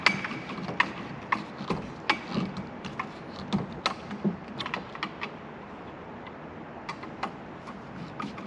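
A Phillips screwdriver tightens a screw with washer into a crossbar bracket on Ford Bronco beach bars, giving a close, steady series of sharp ratcheting clicks and scrapes at an irregular rhythm.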